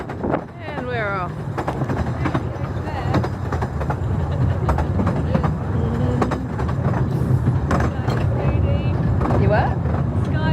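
A train running on rails through the Lake District, a steady loud rumble with rattling and wind buffeting throughout, while people talk over it.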